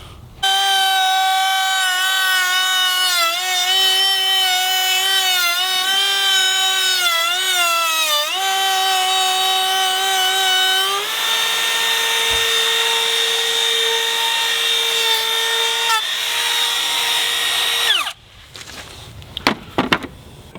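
A Milwaukee M18 Fuel compact cordless router cuts wood with a loud, steady high-pitched whine that shifts in pitch as it bites and eases through the material for about eighteen seconds, then spins down and stops, leaving a few light knocks.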